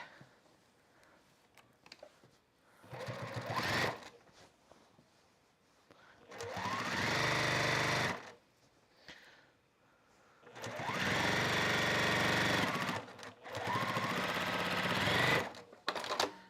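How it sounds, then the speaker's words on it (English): A sewing machine stitches a quilted fabric basket in several bursts of rapid mechanical whirring, each run lasting a few seconds with short quiet pauses between. "now I'm just going to bring this back over to my sewing machine and I'm going to finish stitching"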